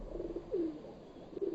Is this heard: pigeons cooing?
yes